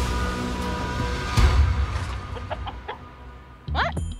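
A chicken clucks in short bursts, with a louder cluster of clucks near the end, over a busy background.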